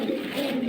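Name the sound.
pigeon cooing while being held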